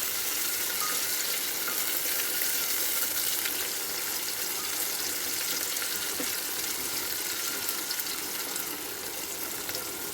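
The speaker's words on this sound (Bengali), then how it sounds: "তেলের মধ্যে চর্বিটা কেমন গলে যাচ্ছে দেখুন।" Goat fat melting in hot oil in a pan, giving a steady, loud, dense sizzle and crackle that runs unbroken throughout with no voices.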